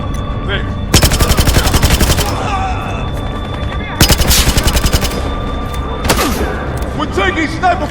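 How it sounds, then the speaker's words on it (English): Sniper and automatic gunfire in the video game Battlefield Hardline, with loud rapid bursts at regular intervals, sharp single shots in between and voices talking. "We're taking sniper fire. We got a sniper."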